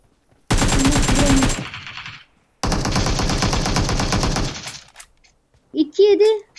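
Loud, rapid automatic gunfire in PUBG Mobile, two long sustained bursts separated by a short silence, followed by a few brief sharp shots and a short voice at the end.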